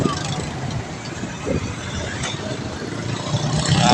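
Road traffic rumbles past outdoors in hot weather, with a steady engine drone swelling toward the end and a voice heard over the noise.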